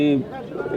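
Pigeons coo at a busy pigeon market, a low throaty cooing up close at the start and then mixed into crowd noise and talk for under a second.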